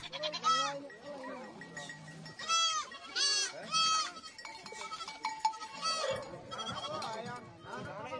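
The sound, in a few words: sheep bleating before sacrifice, Omo Valley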